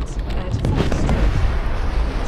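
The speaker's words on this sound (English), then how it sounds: "Stop firing missiles at me!" Missiles strike around a fighter ship in the Star Citizen space-combat game, making dense, loud, rumbling explosions and crackling blasts that run continuously through the short stretch.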